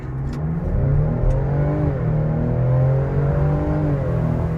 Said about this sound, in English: I'm gonna floor it just so you guys can hear the actual engine when it's in comfort mode